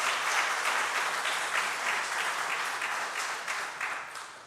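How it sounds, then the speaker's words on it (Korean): A church congregation applauds during a worship service to welcome a visiting pastor, sustained clapping from a large crowd that holds steady, then gradually thins out. "우리 함께 박수로 환영하도록 하겠습니다"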